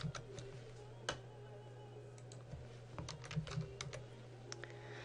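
Rapid keystrokes tapped out on a computer keyboard while entering a guest surname in capital letters into a hotel reservation system, a quiet, irregular patter of clicks over a low steady hum.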